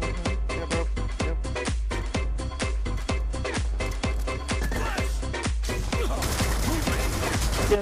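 Rapid, evenly spaced gunfire from Black Ops Two rattles on continuously in sharp, loud bursts, growing denser toward the end.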